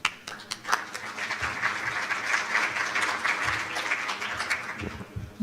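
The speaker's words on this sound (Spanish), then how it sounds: "Recibámoslo con un aplauso." An audience at a biodiversity finance forum applauds a panel moderator as he is welcomed, with dense, steady clapping that swells and holds for several seconds, nearby and fairly loud.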